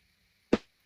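Layered snare combining a snappy snare and a side stick, one punchy, bright hit with a quick decay, alone and close.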